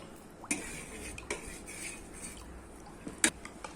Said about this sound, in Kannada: ಮಸಾಲಾನ ಹಾಕೊಂಡು ನೀಟಾಗೇನೆ ಮಿಕ್ಸ್ ಮಾಡ್ಕೋತಾ ಇದ್ದೀನಿ